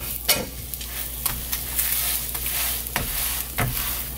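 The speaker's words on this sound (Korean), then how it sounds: "나머지는 후라이팬 위에서 직접 이렇게 돌려가면서 이대로 그냥 구우시면 돼요." Glutinous rice cakes fry in a little cooking oil in a frying pan over low heat, giving a soft, steady sizzle broken by a few sharp clicks and scrapes of turning. No voices are heard.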